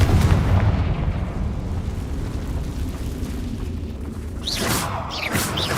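A Confringo fire spell blasts in Hogwarts Legacy, a loud rumbling explosive burst over a dense noisy battle backdrop, with a couple of sharper whooshing flares near the end.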